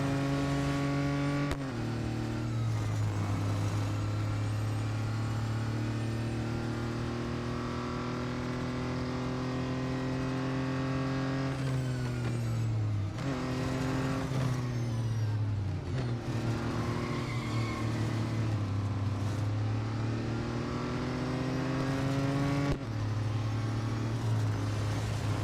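Audi Quattro B2 racing car engine in Real Racing 3, droning steadily for the whole stretch with rising and falling pitch as it shifts through gears, loud and continuous with no talk.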